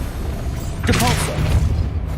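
A Depulso spell fires in Hogwarts Legacy, a single bright whooshing burst with a booming impact under a steady background hum, with a voice saying the spell's name.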